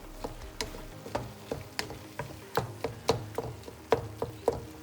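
Ground meat for lasagna is mixed by hand with paprika, making close, rhythmic wet squelching and slapping pulses about twice a second, quiet and alone.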